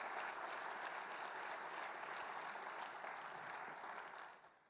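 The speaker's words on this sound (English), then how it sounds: "So let's give a round of applause for the men that have made it and that are still here." Steady applause from a symposium audience fills the whole stretch, dense and even, then fades slightly at the very end; no one speaks over it.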